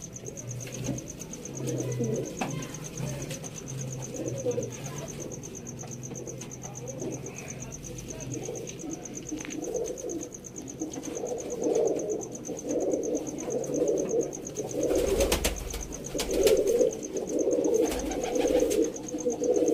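Old Sialkoti pigeons, a female from a rooftop loft, coo steadily and repeatedly at moderate volume over a constant background hum, with a brief louder flutter partway through.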